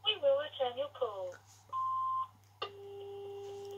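After a recorded greeting voice on an answering machine, a steady electronic beep sounds for about half a second, followed by a second, longer tone that holds on steadily to the end.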